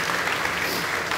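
A church congregation in Surabaya bursts into a brief, dense patter of applause, close and fairly loud.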